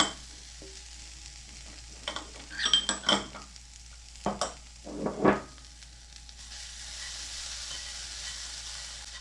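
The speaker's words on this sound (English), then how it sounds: "Off the heat, I'm going to mix in the Parmesan." Golden breadcrumbs are tossed with Parmesan in a pan off the heat, heard as a cluster of close scraping and clinking strokes from a utensil over a quiet background, followed by a soft steady hiss.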